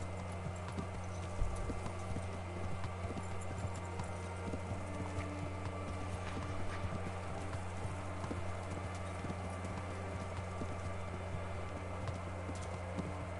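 Steady clip-clop of a galloping horse in the video game Kingdom Come: Deliverance runs throughout, rhythmic hoofbeats over a low constant hum, with no voices.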